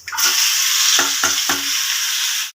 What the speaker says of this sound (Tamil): பூண்டு, வெங்காயம், தக்காளி எல்லாத்தையும் வதக்கிக்கலாம்